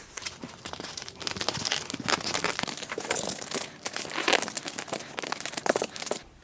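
Tape being stretched and wrapped to join two foam pool noodles, a dense run of crinkling, crackling and tearing sounds that continues close and busy for several seconds.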